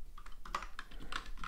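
Fingers type on a computer keyboard in a quick, steady run of close clicky keystrokes, with no voice over them.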